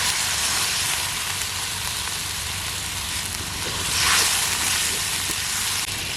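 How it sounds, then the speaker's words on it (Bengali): Ground cumin and coriander spice paste frying in a pan as a little water is added for an eggplant and duck egg curry, giving a steady, close, loud sizzling hiss that swells briefly midway. "মশলা কষানোর জন্য সামান্য একটু জল দিয়ে নেব।"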